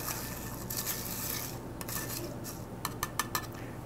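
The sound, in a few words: stirring mint leaves in a cocktail glass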